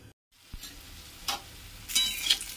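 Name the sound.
fish frying in a pan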